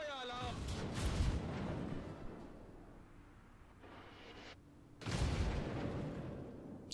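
Naval guns boom in the World of Warships video game: two heavy, rumbling blasts about four seconds apart, each trailing off into a long rolling decay.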